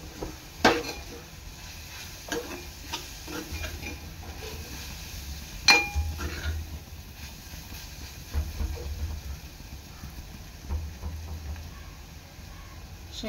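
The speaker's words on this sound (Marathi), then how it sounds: "आता ह्याच्यामध्ये मी टाकणार आहे शेंगदाण्याचा कूट। मिक्स करून घ्यायचं आहे।" A spoon scrapes and clinks in a pan as peanut powder is stirred into softened onion, with a soft sizzling hiss beneath the irregular knocks; kitchen sounds stay fairly faint and intermittent.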